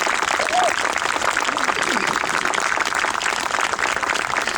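Audience applause at a performance by the Royal Life Guards drum corps, a dense steady patter of many hands clapping, loud and continuous from start to finish with faint voices underneath.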